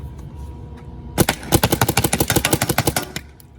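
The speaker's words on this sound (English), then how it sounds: "it shoots pretty quiet if you have the rounds in, but if you don't have projectile, it is pretty loud" An MG100 EMF100 gun fires a rapid string of about twenty sharp, evenly spaced shots, loud and close, after a couple of quieter single pops.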